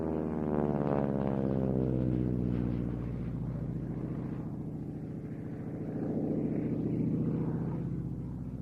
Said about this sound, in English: effect of the propeller tips going supersonic that creates the buzzsaw type rasp that's always accompanying this aircraft through the air